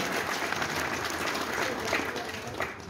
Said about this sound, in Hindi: ये सभा में ताली बजाना जो है ना, ये अच्छा तो लगता है